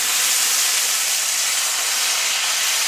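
Sausage and potatoes sizzle in a hot skillet while being stirred, a steady loud broadband hiss throughout with no voices.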